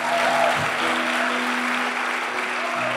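Church congregation applauding loudly and continuously in a large worship hall, a dense steady clatter of many hands lasting throughout, with a faint voice briefly audible early on.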